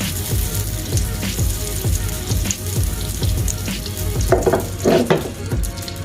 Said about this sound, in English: Let all the butter melt completely first.